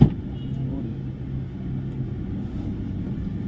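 A car's engine rumbling low and steady as it pulls away, a continuous near drone with no talk over it, heard from inside the vehicle during a ride-hailing trip.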